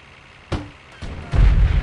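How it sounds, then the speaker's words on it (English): Booming cannon-like shots from a vehicle turret in the Delta Force 2 video game: two or three loud, sharp reports in quick succession, the last one heavy and rumbling. "Is that the vehicle actually shooting at me?"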